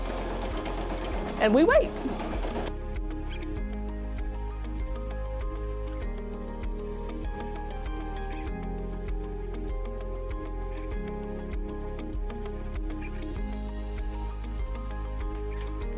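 A Brother PE 900 embroidery machine stitches steadily with a quiet, continuous mechanical whir and fine rhythmic ticking, after a brief louder burst near the start; a voice speaks briefly over it.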